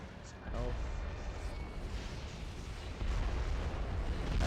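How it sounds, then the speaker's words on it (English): Rocket launcher fire and blasts in the PS2 shooter Red Faction, a dense, sustained rumble of booming explosions with a louder surge near the end, heard alongside game action. "The Wasp, which is the big rocket launcher."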